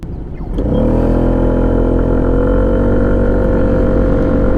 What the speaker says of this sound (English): So let's see off the traffic light how the SLX 150 performs.